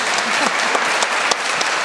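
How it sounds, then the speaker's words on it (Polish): Loud, dense applause from a crowd at an amateur volleyball tournament event, steady clapping filling the whole moment without talk. "Wielkie brawo."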